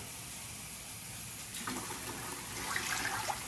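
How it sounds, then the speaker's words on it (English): Hot water pours steadily into a pot with a splashing, gushing rush that swells partway through, close by and alone. "I'm gonna take about a cup of coffee and about 3 or 4 cups of hot water"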